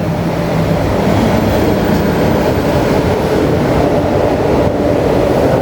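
A train rumbles past at close range, a loud continuous roar of wheels and cars with a steady rolling rattle.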